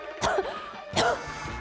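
Two sharp coughs about a second apart, close and fairly loud, with quiet room noise between them.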